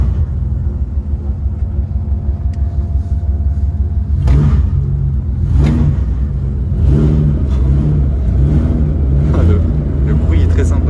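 The Batmobile's engine in Monaco gives off a loud, deep rumbling idle that rises into throaty revs, with bursts of acceleration standing out over the steady drone.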